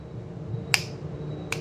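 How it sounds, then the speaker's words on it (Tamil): Two sharp finger snaps, one near the start and another about a second later, crisp and close against a quiet room with low background hum. "கை நல்லா இப்படி சொடக்குள் வருமா அடிக்கணும்."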